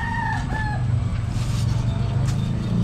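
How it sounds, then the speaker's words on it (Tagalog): Chickens call out nearby, with a rooster-like cry early on over a low steady rumble of engine or background noise. "daming manok dito ah"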